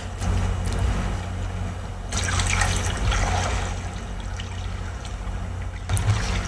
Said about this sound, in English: I hear bubbles.